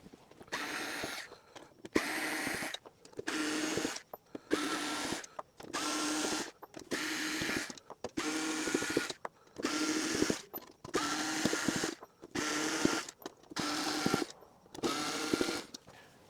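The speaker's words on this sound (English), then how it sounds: "So what I have here is my electric screwdriver." An electric screwdriver runs in reverse to back screws out during a CPU cooler install, whirring in about a dozen evenly spaced bursts of a second or so each, separated by brief pauses, close and clear.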